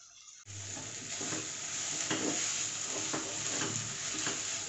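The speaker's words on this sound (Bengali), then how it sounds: "গ্যাসটা একদম কমিয়ে নাড়ছি, নাড়তে নাড়তে নাড়তে নাড়তে এটা ভাজাটা হবে।" Pointed gourd fries over a low gas flame with a soft, even sizzle that begins abruptly, broken by gentle rhythmic scrapes of a spatula stirring the pieces.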